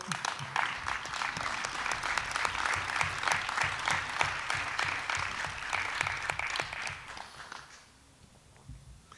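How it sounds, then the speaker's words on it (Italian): An audience applauds steadily at an Italian political talk on courage in politics, a dense wash of many hands clapping for about eight seconds before fading out abruptly near the end. "Grazie per l'applauso"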